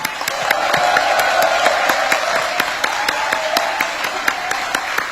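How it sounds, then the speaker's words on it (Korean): A large crowd of Korean expatriates in the Philippines applauds steadily in welcome for visiting presidents, dense continuous clapping at full volume for the whole stretch without any talk. "여러분, 우리 다시 한번 대통령 네 분을 위해 뜨거운 환영의 박수 부탁드립니다."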